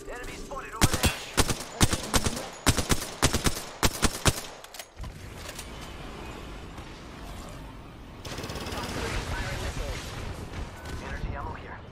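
Rapid bursts of gunfire in Apex Legends ring out loud and close for several seconds, then give way to a lower, steady rumble of in-game noise and movement, with voices chattering over the action.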